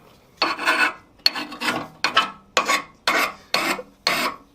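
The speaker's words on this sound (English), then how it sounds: "rub with the stone" Sharpening stone rubbed along a hardened, quenched steel chasing tool in a metalsmith's shop, giving a close, repeated raspy scraping with about eight even back-and-forth strokes.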